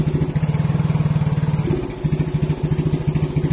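An old, faulty fuel-injected Yamaha X-Ride motorcycle engine held at full throttle gives a steady, loud pulsing chug with a brief dip and recovery partway through and no voices.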